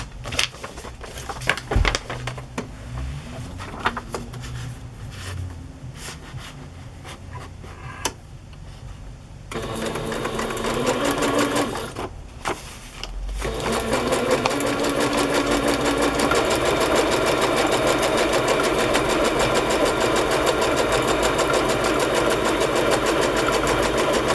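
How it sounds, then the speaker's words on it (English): A sewing machine stitching trim onto a fabric edge: intermittent short runs and clicks at first, then a long steady continuous whir of stitching, loud and close. "And sew some trim to this edge."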